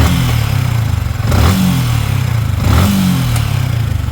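A Yamaha Sniper 155 motorcycle engine idles and revs close up after cam bearing repair, a steady mid-pitched rumble with two brief throttle blips, no talk.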